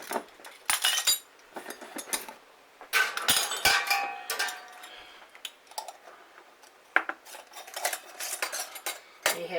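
Metal jar lids for raspberry jelly clinking and clattering against glass jars and each other, a series of sharp irregular chinks and taps, close and fairly quiet with pauses between bursts.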